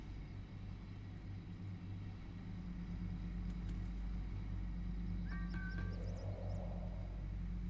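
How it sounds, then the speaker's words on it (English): Flying cars in the video game The Universim, a low steady rumbling drone passing continuously under game ambience, with a brief electronic chirp partway through. "Yeah, those are definitely flying cars. There are so many of them."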